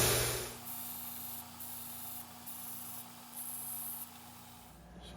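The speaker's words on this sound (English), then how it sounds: "What I'm going to do is sand this down and then round it off." Steady hissing scrape of sanding on a small part of a hit-and-miss engine muffler or spark suppressor, running continuously for several seconds in a few pulsing strokes, close and moderately loud with no talk.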